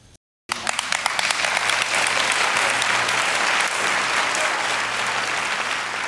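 Studio audience of The Golden Bachelor finale bursts into sustained applause after a brief quiet start, a dense, steady wash of many hands clapping that holds loud throughout with faint voices mixed in.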